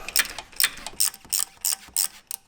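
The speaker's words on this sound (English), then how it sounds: "using a 15mm socket, we're going to just go ahead and remove this" A ratchet with a 15mm socket turns to remove a bolt on a Jeep JL Wrangler. Regular, close clicking bursts repeat about eight times in quick rhythm, with no talk.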